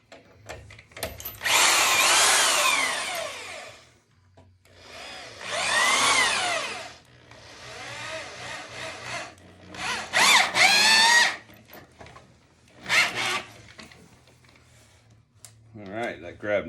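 A power drill whirs in several bursts, rising and bogging as a screw bites into a wooden log bed frame, with pauses between runs and a voice talking briefly.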